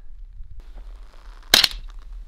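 A single sharp shot fired into three stacked sheets of 3/4 inch plywood held together with a wood clamp, one loud crack with a short crunching impact tail against a quiet background.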